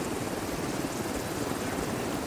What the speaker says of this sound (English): Where's the chopper coming in?